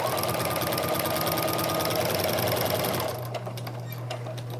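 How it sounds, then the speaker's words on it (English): A sewing machine stitching quilt binding, a fast steady mechanical whir close by that slows and drops to a lower hum near the end. "I'm gonna start sewing about an inch or so before where I stopped"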